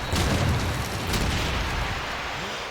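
A grenade goes off during a competitive video game match at the GOTN Dallas 2025 tournament, a loud, rumbling blast that fills the whole moment and fades only slightly, with no voices on top.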